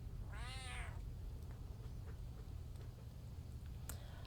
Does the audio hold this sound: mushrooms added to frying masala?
no